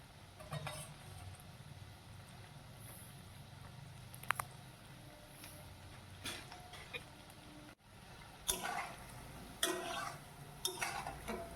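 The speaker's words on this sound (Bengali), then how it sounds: "খুন্তির সাহায্যে এরপর উল্টে পাল্টে বেশ কিছুক্ষণ ভেজে নেবো" Ripe banana fritters fry quietly in hot oil while a metal spatula turns them, giving soft sizzling under scattered scrapes and clinks against the pan, some sharper and closer, with no talking.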